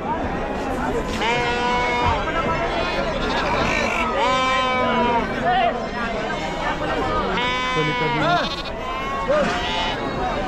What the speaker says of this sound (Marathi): इकडं पाहू शकाल मेंढ्या आणि बोकड्यांची आवक चांगली झालेली आहे